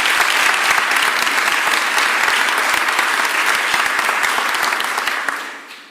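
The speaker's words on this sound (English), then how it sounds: "Give Harry a round of applause" Crowd at a mayor's press conference on the end of a District Council 33 strike gives a loud, close round of applause, dense steady clapping that holds for several seconds before cutting off.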